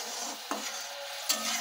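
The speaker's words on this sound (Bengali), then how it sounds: "একটু ভাজা জিরের গুঁড়ো ওপর থেকে দিয়ে দেব। দিয়ে এবার নাড়িয়ে নেব।" A spoon stirs thin mango chutney sprinkled with roasted cumin powder, with two sharp scraping strokes against the pot and a soft hiss between them.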